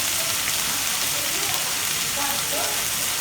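Tomatoes with green chillies, curry leaves and a little salt sauté in a pan, making a dense, even sizzle that sounds much like rain on a surface.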